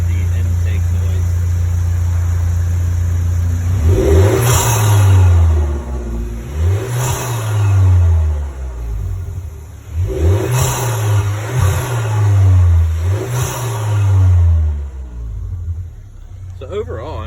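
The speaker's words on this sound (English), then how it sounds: "here is the audio clip slash video clip of the aftermarket intake" A 2019 Volkswagen Jetta with the 1.4-litre turbocharged engine and an aftermarket intake revs repeatedly, about five loud rising-and-falling throttle blips with a deep rumble and strong intake roar, recorded close up with a steady idle between bursts.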